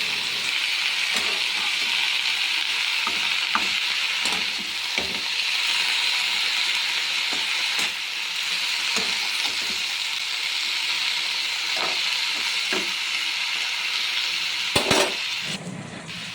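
Mixed vegetable curry with pumpkin greens sizzling and frying in a pan, a steady loud hiss broken by occasional stirring clicks and scrapes, with no talking.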